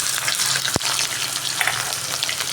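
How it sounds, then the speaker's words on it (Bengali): Chopped onions fry in hot oil in a wok with caramelised sugar, a loud, dense, continuous sizzle with one sharp knock of a utensil against the pan. "আর এখানে এই কুচনো পেঁয়াজটা ভেজে নেব।"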